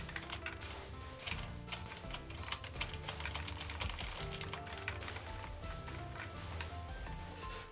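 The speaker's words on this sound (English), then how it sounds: "my keyboard is noisy and it's just not even mechanical" Rapid, continuous clatter of typing on a noisy non-mechanical computer keyboard, close and busy with dense overlapping keystrokes throughout.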